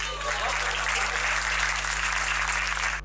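Audience applause at a Haryanvi stand-up comedy show, steady and dense throughout with no pauses, with a low electrical hum underneath.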